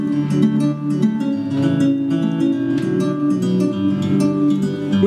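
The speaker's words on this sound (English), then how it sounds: "the guitar sound sounds like this." Guitar-style instrument from a Native Instruments Kontakt sampler plugin playing a sustained, layered harmonic part with steady chords and occasional brighter plucked accents, loud and continuous with no talking.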